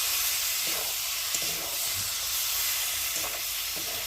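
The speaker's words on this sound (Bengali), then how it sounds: "তাহলে এখন ভালো করে কষিয়ে নেবে।" Lotte fish curry sautéing in a pan hisses with a dense, steady sizzle and steam, punctuated by a few soft stirring scrapes, close up and without talk.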